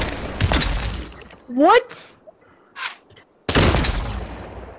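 Video game gunfire crackles in short bursts at the start and again near the end, loud and close, with a rising electronic tone and a short spoken word between the bursts.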